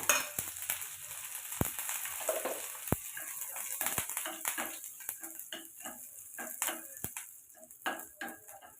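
Mustard seeds, urad dal and curry leaves fry in hot oil, a steady crackling sizzle with sharp pops and a few clinks of a spoon against the pan.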